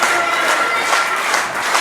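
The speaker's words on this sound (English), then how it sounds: "And you hear this crowd" A wrestling crowd at a GLWA title-match main event keeps up a steady, dense roar of cheering and applause, continuous and full throughout with no single voice standing out.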